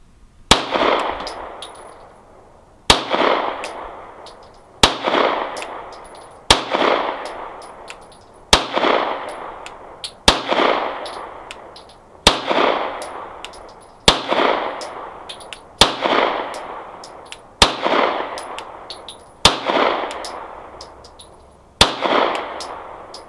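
A Sphinx SDP Compact 9mm pistol fires about a dozen evenly spaced shots at a steady slow pace, each a sharp loud crack with a short ringing decay, alone outdoors.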